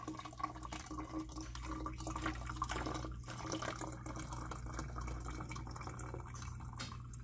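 Warm tea concentrate pours and drips into a pitcher, a steady watery trickle with scattered drips over a low constant hum, moderately quiet and without talk.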